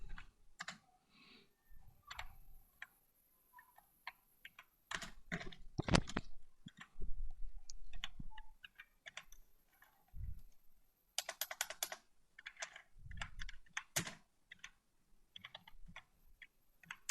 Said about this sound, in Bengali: যেরকম আমি এখানে কিছু টেক্সট লিখলাম